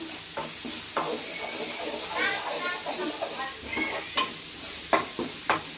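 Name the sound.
ginger garlic paste sautéing in pan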